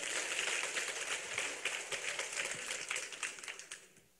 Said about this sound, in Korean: 하나님 박수를 드립니다.